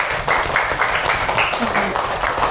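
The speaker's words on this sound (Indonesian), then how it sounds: "Beri tepuk tangan." A classroom of students claps hands together during a religious studies lesson, short brisk clapping mixed with children's voices calling out close by.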